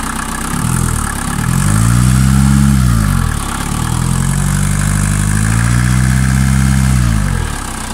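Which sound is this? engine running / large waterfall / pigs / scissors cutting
engine running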